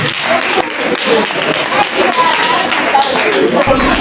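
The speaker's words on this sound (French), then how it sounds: "Si on peut acclamer s'il vous plaît." Crowd of pupils applauding at a school motivational talk, a steady dense wash of clapping filling the whole stretch at fairly loud, even level, with voices mixed in.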